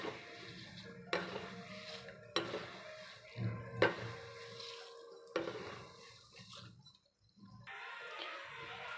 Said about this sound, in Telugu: ఇప్పుడు కొన్ని వేసుకుంటున్నాను ఆయిల్ బాగా కాగి ఉండాలండి